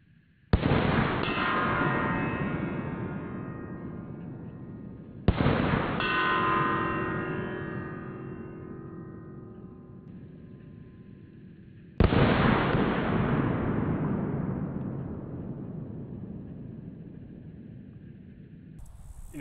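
Three single pistol shots from an HK P30L and a SIG M17 handgun, each a sharp, loud crack followed by a long echoing decay, spaced several seconds apart with no talking.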